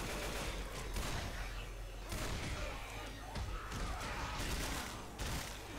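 Rapid pistol gunfire in the zombie shooter Left 4 Dead 2, loud repeated shots in dense bursts layered over game action noise.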